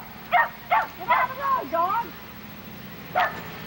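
A pet dog inside a house barks to be let out, giving several short, close yips and barks in a quick run, then a pause and one more bark.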